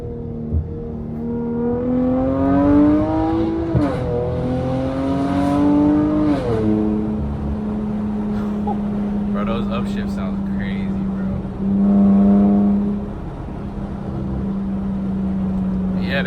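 A Chrysler 300 engine revs up and drops back as paddle shifters downshift. Rising and falling rev sweeps settle into a steady, close drone, with someone talking over it.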